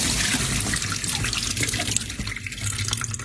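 Cashews soaked about two hours in hot water are drained at a kitchen sink, with water pouring and splashing steadily and close by for the whole stretch.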